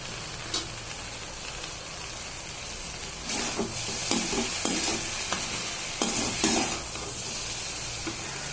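Sliced okra (ladies finger) with chili powder fries in a pan, a steady sizzle broken by scraping stirs of a spatula that come in short bursts partway through, close and fairly loud.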